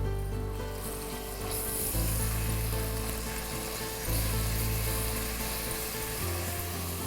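Turmeric and ginger garlic paste with slit green chillies sizzling in hot oil in a pan, a steady soft frying hiss with occasional stirring scrapes, no one talking.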